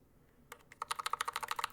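A mechanical keyboard fitted with Glorious Holy Panda switches is typed on after a brief quiet start, giving a quick run of crisp, close clacks at a steady rhythm that grow louder and more regular.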